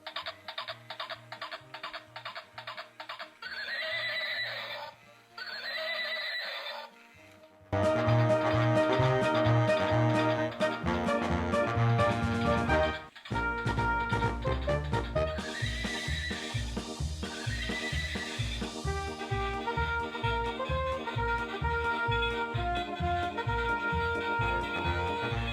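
A Horse'n'Rider toy horse is switched on and plays electronic neighs and whinnies, followed by a loud rhythmic mechanical clip-clop and motor chatter as it runs, close and continuous.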